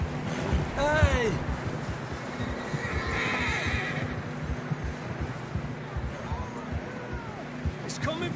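Horses in the video game Red Dead Redemption 2 neigh and whinny several times, the loudest cry coming early, over hoof clops and a low hum, with voices speaking in between.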